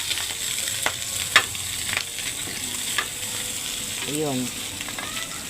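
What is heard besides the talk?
garlic being sautéed and stirred in a pan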